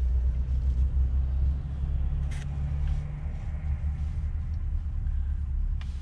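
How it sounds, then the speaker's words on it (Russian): A Neoplan bus pulling in with its engine running, a steady low diesel rumble close by that holds throughout, with no talk. "Автобус заходит."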